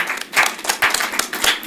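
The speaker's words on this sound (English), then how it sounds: "Clap like you mean it." A small audience applauds in a meeting room, with a light, uneven patter of claps that rises and falls in short bursts.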